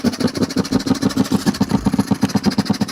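A steadily running engine in a robotic car safety system, a close, loud, even pulsing idle-like throb that continues without pause, with no talking.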